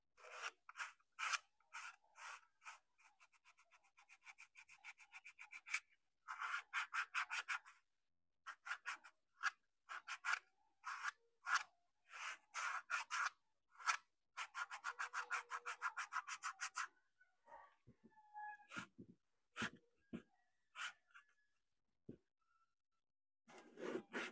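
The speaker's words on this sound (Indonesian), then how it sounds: "Untuk menghilangkan bekas lem ini, teman-teman bisa untuk mengamplas" Glue residue being sanded off a sandal by hand, heard as bursts of quick scratchy back-and-forth rubbing strokes, close and fairly loud, with short pauses between sets and a few isolated scrapes toward the end.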